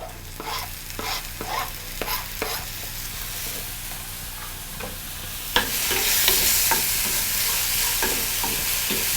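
Tomato is stirred into a hot frying pan with rice sauce, a series of close, regular spoon scrapes and knocks over a steady sizzle that grows louder and hissier partway through.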